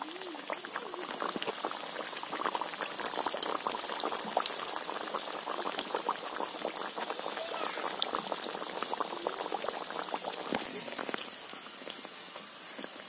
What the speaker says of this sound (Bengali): তেলটা এদিকে গরম হয়ে গেছে, এবার আমি কচুরিগুলো ভেজে নেব।